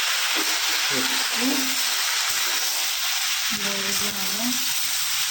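Chillies frying in a pan with tomato sauce and soy sauce give a loud, continuous sizzle with a steady hiss, while a voice talks briefly in the background.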